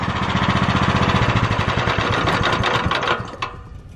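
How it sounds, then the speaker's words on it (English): A big block pull-start engine with a 1-inch keyed output shaft runs close by with a loud, rapid, steady mechanical chatter and knocking rhythm, briefly dipping near the end. "It's just a good running engine."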